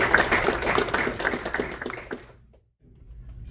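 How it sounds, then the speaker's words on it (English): Sponsors get an outdoor round of applause at Lake Michigan Day, a crowd clapping steadily for about two seconds and then thinning out to scattered claps before it stops, leaving quiet background. "So let's give our sponsors a big round of applause"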